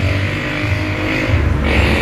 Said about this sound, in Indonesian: Permasalahan yang ada saat ini suara mesin kasar